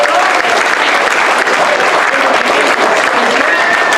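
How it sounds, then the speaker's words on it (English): An improv comedy show audience breaks into loud, dense applause, a sustained wash of clapping from a full crowd that carries steadily through the whole stretch. "give our troop a round of applause"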